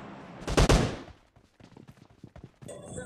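Gunfire from two teams fighting in the video game PUBG Lite: one loud, heavy burst of shots, then a quieter stretch of scattered rattling shots and impacts.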